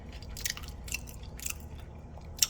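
Close-up crunchy chewing of a pork rib taco with fresh vegetables and cilantro, in a steady rhythm of about two bites per second, soft and wet, with no talking.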